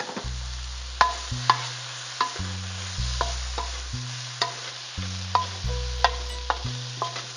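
Vegetables stir-frying and charring in a pan, with regular scraping stirs and sharp spatula knocks recurring about every second over a soft sizzle, close and prominent against steady background music.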